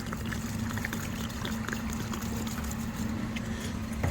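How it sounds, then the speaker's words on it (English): Steady pouring water splashing and trickling over the cowl of a 1968 Shelby GT500, a continuous wash of liquid with a low hum underneath. "So pour like half a gallon of water on each side."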